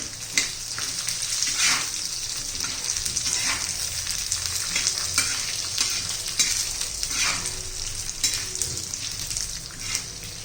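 Lentils and chili pieces dry-roasting in a pan for curry leaf chutney, a steady close crackle and scrape of stirring with repeated spatula strokes, no voices.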